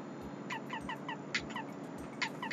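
Quacking hammer effect from the Paper Mario 64 video game: a run of short, squeaky duck-like quacks in quick succession, with a few louder bursts at moments, over a faint low background hum.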